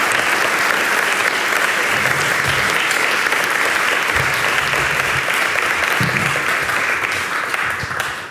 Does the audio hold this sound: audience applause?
yes